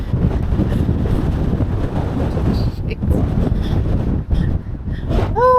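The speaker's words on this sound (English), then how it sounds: "I'm incredibly grateful we didn't have wind like this yesterday." Strong outdoor wind in the Peak District buffeting a microphone, a loud, continuous low roar and rumble with gusty swells and a brief quieter dip.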